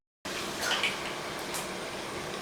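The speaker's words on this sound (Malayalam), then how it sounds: "ഇനി നമുക്കിതിലേക്ക് നമ്മൾ അരച്ചു വെച്ചിരിക്കുന്ന അരപ്പൊഴിച്ചു കൊടുക്കാം" Ground coconut paste is poured into a simmering pineapple curry, a quiet, steady watery pouring and gushing that starts suddenly and runs for about two seconds with no speech.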